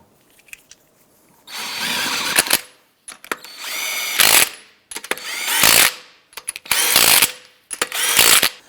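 A power tool snugs down lug nuts on a 2005-2009 Subaru Outback front wheel, with several loud close bursts of whirring and ratcheting, each separated by short pauses and small clicks.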